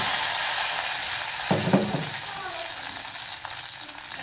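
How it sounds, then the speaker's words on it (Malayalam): Hot tempering sizzles as it goes into a homestyle roasted-coconut Kerala sambar. A soft frying hiss bursts louder for a moment, then settles back to a steady sizzle with faint stirring. "ഇനി നമുക്ക് ഈ സാമ്പാറിലേക്ക് ഇത് വറുത്തിടാം"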